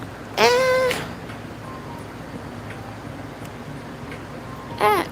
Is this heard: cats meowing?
yes